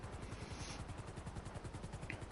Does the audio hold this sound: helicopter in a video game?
yes